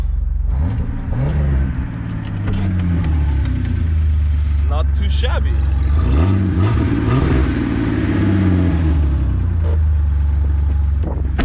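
A Jeep TJ engine revs in repeated rising surges over a deep idling rumble, close and loud, with someone speaking briefly between the revs.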